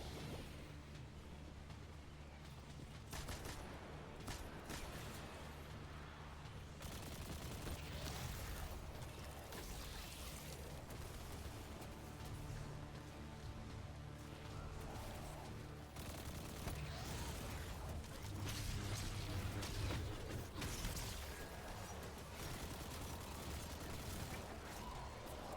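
Video game gunfire in Destiny 2, dense rattling bursts of automatic shots and mechanical clatter running continuously at a moderate level through a busy game mix.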